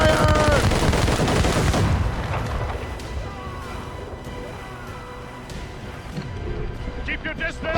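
Naval battle in Assassin's Creed Rogue, with ship cannons firing: a heavy, rumbling roar of cannon blasts and crashing impacts that swells, eases off and builds again, while voices shout orders over it.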